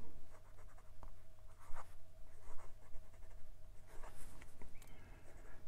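A Wing Sung 629 fountain pen with a fine steel nib writes on Clairefontaine 90 gsm paper, giving soft scratchy strokes and small taps at close range, faint and intermittent against a quiet room background.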